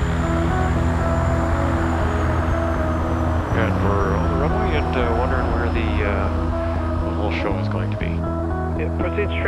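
A de Havilland Beaver DHC-2 floatplane's radial piston engine drones loud and steady throughout, with a constant propeller roar as the aircraft comes in to land.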